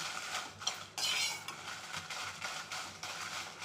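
Roasted spices for homemade sambar powder scraped off a pan onto a plate, with soft metallic scrapes and light clinks of a utensil against cookware, close and fairly quiet.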